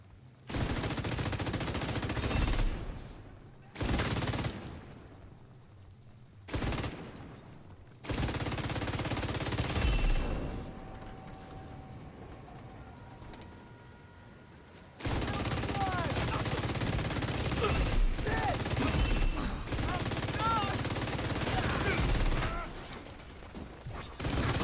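Bursts of automatic gunfire with special ammo in The Division 2, loud sustained volleys broken by sudden silent gaps, with mechanical clatter between them.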